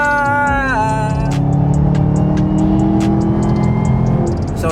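Loud, close roar of a 2022 Chevrolet Camaro ZL1 1LE with a 650-horsepower engine accelerating hard; the pitch climbs, dips briefly as if shifting, then holds a strong sustained drone.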